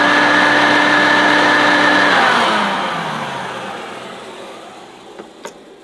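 Hoover Turbopower Junior U1102 upright vacuum cleaner running loud and close with a whining motor hum, then switched off and winding down over a few seconds, followed by a couple of faint clicks.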